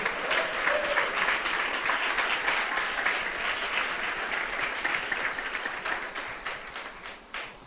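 Church congregation applauding together during a service, a dense, steady wash of clapping that stays loud throughout and eases off slightly near the end.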